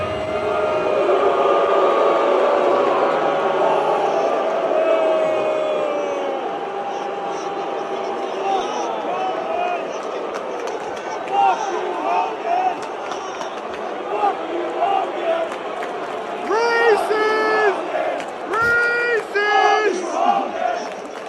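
Large arena crowd at a WWE Raw wrestling event in Los Angeles booing a wrestler, a sustained loud roar of jeers and shouting that swells and fades, with an amplified voice cutting through near the end.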